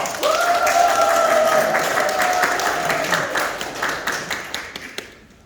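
A crowd breaks into loud, sustained applause at a logistics center opening ceremony, dense clapping that slowly thins into scattered claps before fading out, while a drawn-out voice rings over the start.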